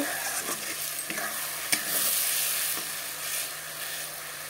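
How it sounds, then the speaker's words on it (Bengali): Tomatoes sauté in oil in a pan for a katla fish curry, giving a continuous loud sizzle broken by a few scraping stirs and light clinks of the spatula close by. "এখন টমেটো দিয়ে আবার ভালো করে কষিয়ে নেব।"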